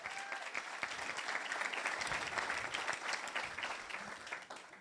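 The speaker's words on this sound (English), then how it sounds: "So give Judy a round of applause" An event audience breaks into applause for Judy, a dense, steady patter of many hands clapping at moderate distance that swells and then starts to fade.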